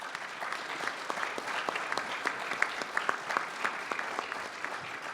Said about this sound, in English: Let's end with a round of applause for the panelists.